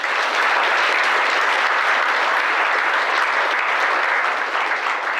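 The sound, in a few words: audience applause at Veterans Day ceremony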